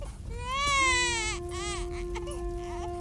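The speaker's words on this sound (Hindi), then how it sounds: "शायद इसीलिए मुझे छोटे बच्चे की रोने की आवाज सुनाई दे रही है।" An animated infant cries in a fairy tale, wailing and rising in pitch, loud and near, in sobbing bursts with a short whimpering break, no other voices over it.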